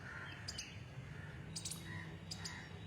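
Small birds chirp sweetly outdoors in short high bursts, three quick clusters spread over a few seconds, moderately distant above a low steady background.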